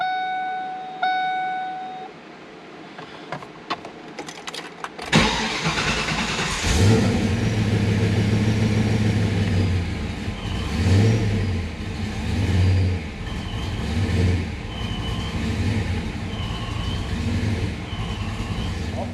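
A 1995 Ford Mustang fitted with Terminator X fuel injection: after a few faint clicks and a quiet stretch, the engine fires up and idles loudly, then revs repeatedly in several rising and falling bursts, close by.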